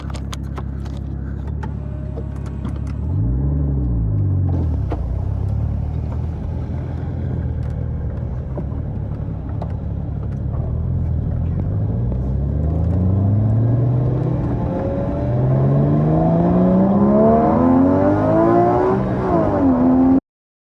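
A 2016 Porsche GT4's 3.8-liter flat-six drives past loud and close, a deep rumble that revs up and down, then climbs through rising gear pulls with a strong whining growl before cutting off abruptly.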